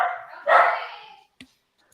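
A dog barks twice close by, loud rough bursts in quick succession, followed by a brief faint tap, with no talking.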